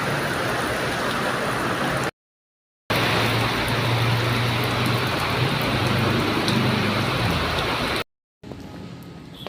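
Steady heavy rain pouring down in a continuous dense hiss, loud and close, briefly cut by two silent gaps before continuing.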